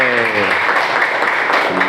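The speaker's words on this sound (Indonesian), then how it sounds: "Tepuk tangan." Crowd clapping fills the moment, a steady dense patter of many hands, with a voice briefly audible at the start.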